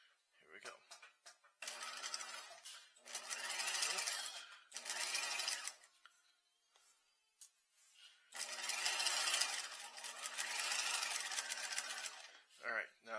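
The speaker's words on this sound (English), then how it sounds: "we're just going to sew our diagonal edges" A sewing machine stitches a diagonal seam with a half-inch seam allowance, backtacking at the start and end. It runs in several loud, steady bursts separated by short pauses.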